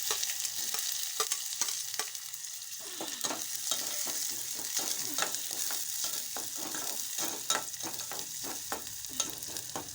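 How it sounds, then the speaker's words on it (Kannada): Onions fry in hot oil with a steady crackling sizzle, broken by frequent quick scrapes and taps of a spatula against the pan, close up and without speech. "ಈಗ ಬೀರಿ ಸಸಿ ಕಾಯ್ತು ಉಳ್ಳಾಗಡ್ಡಿ ಹಾಕೋಣ"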